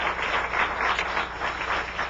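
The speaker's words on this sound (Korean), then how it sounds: "여러분들 격려의 박수를 한번" A church congregation breaks into applause of encouragement, a full, steady patter of many hands clapping at once, sustained throughout without talk.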